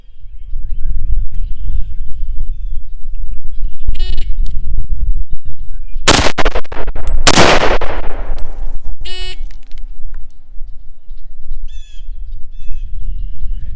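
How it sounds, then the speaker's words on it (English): Two M1 Garand rifle shots fired left-handed on an outdoor course, loud sharp cracks about a second apart over steady wind noise, with a crow cawing briefly before and after. "I have 5 seconds to fire 2 shots left-handed with the M1."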